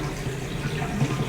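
Warm water runs steadily from a tap into a bucket for wig washing, a continuous close hiss and splash with no voices.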